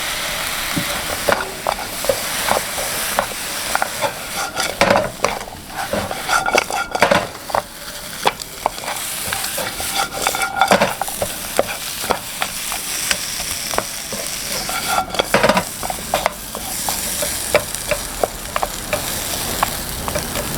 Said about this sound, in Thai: นี่ผงโคลนะครับ แล้วก็ใส่หมูด้วยผัดเลยนะครับผม